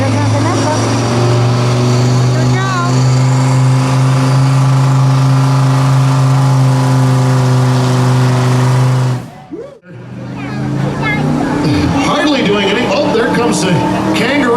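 Truck pull vehicle with a new motor at the Riceville truck pulls, its engine roaring loud and sustained for several seconds, then cutting out briefly before rough revving resumes, with an announcer talking throughout.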